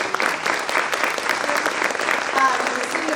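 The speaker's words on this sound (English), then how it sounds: "Round of applause." At a community tamalada fundraiser, a crowd gives sustained applause for city council members and officials, a thick, even patter of many hands with faint voices mixed in.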